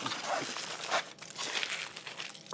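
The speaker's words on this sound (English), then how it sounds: "baked potato, just wrap them in tin foil" Tin foil crinkling and crumpling as baked potatoes are wrapped by hand, a close, fairly quiet series of papery rustles and crackles with no talk.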